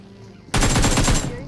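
A short, loud burst of rapid automatic gunfire from a house in a battle royale shooter game, cracking out after a quiet moment and lasting under a second.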